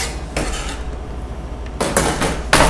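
A knife chops fresh herbs for Cajun slaw on a cutting board, giving a few sharp, close knocks in short bursts with pauses between them and no talking.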